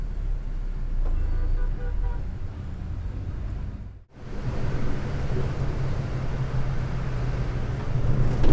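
Heavy road traffic near Melmaruvathur rumbles past a moving Volvo multi-axle bus, a steady low roar of engines and road noise with a brief drop in the middle before resuming, faint horn toots mixed in.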